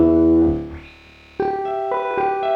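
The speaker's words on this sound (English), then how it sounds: "But then you've got things like tunnel reverb." A sustained guitar chord through an Amiga 500 tunnel reverb effect washes into a hollow, echoing tail, then new notes enter and ring out with a boomy, reverberant decay.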